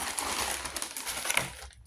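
Plastic packaging crinkles and rustles continuously up close for a couple of seconds, then stops.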